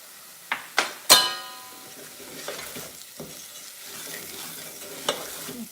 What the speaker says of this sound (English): I'm now going to put in ground cumin as well.